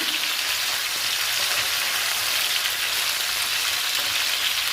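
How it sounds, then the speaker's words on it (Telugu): Okra pieces frying in a pan, a steady dense sizzle with a hissing, rain-like texture that stays even and close throughout. "ఈ బెండకాయ ముక్కలు వేయించుకుందాము"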